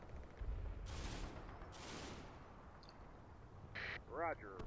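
Mortar rounds land in the video game Combat Mission Final Blitzkrieg, a few dull distant booms and bursts under steady background noise, with radio-style chatter and talk over them.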